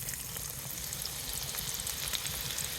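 Chopped onion fries in hot oil with cardamom, a dense, even sizzling hiss with faint crackles that continues unbroken for a few seconds.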